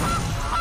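A single loud, close goose honk plays as a sound effect for the Guild Goose card in MTG Arena, a short nasal call with two brief bursts.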